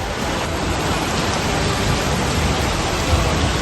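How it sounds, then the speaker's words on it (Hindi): Heavy rain lashes down with hail and strong winds across parts of Shopian, Anantnag and Pulwama in Kashmir, a dense, steady roar of downpour that holds at the same level throughout, with no voices. "शोपियां, अनंतनाग, पुलवामा के कई इलाकों में तेज बारिश के साथ ओलावृष्टि और तेज हवाएं चली।"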